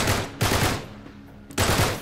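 Gunshots in Uncharted 3, loud close bursts in two clusters separated by a brief lull, each one a rapid string of cracks, with no voices.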